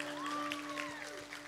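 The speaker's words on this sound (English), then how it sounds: "Who said you could stop clapping?" An audience claps at an evening Christian gathering in Stanthorpe, a steady wash of applause that fills the hall, with a sustained tone humming underneath throughout.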